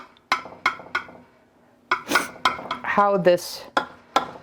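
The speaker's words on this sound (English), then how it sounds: "let me go ahead and cut this and serve it" A utensil clinks and scrapes against a dish while a zucchini-pasta lasagna is cut and served, giving several sharp knocks spaced unevenly, with a short stretch of speech partway through.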